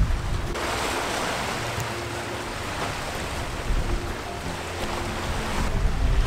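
Surf breaking and washing along the water's edge of a secret beach near Kelowna, a steady broadband roar with some wind buffeting the microphone, swelling slightly toward the end, with no voices.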